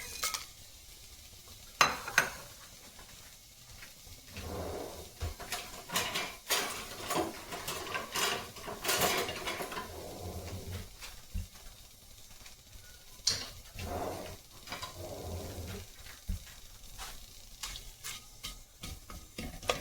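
Whole spices, cumin, cardamom, black pepper, cloves and bay leaf, sizzle in oil for shahi paneer, a soft crackling fry with bursts of stirring and clinks of utensils on the pan, fairly faint and close.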